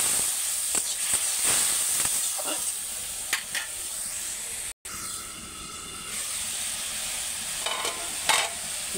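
A spice paste of salt, chili, cumin, turmeric and coriander powders fries in a pan with onion and tomato, giving a steady close sizzle and hiss broken by a few stirring scrapes and one brief dropout.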